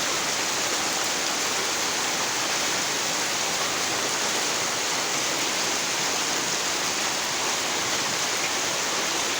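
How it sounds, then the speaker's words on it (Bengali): Heavy rain that has fallen for several days, pooling water across a rural area, makes a steady, dense, broadband roar with no breaks or voices over the whole stretch. "আমাদের এলাকায় কয়েকদিন ধরে খুব বৃষ্টি চলতেছে"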